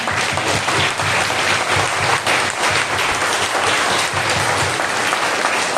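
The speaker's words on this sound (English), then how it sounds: "now I want to hear a thunderous clap for the Lord" A church congregation at a Monday prayer meeting claps loudly and continuously, a dense, thunderous wall of applause close by with no talk over it.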